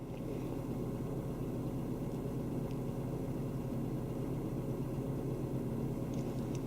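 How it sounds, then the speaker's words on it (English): A 2005 Mazda 3 with a swapped-in 2.5L engine idles smoothly and steadily after warming up, a continuous low, even engine hum heard close with no talking. "I can already tell this engine is running completely different. It's totally smooth."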